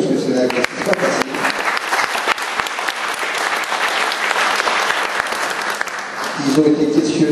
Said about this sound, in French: je pense qu'on peut les applaudir parce que c'est un exercice pas facile